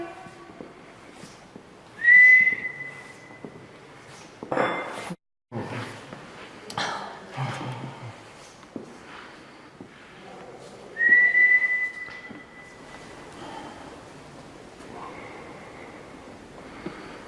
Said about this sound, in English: Keep whistling. Where are you?